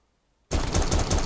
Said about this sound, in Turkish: Bu camdan sıkarlar mı lan? Sıkıyorlar.